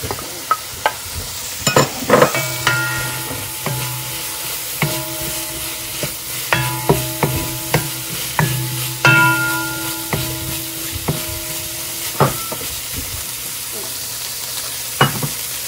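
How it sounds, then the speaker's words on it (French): Mushrooms fry and sizzle in a pot while a utensil stirs them, giving a steady close hiss broken by repeated clicking scrapes and knocks against the pot. "on ajoute immédiatement nos champignons"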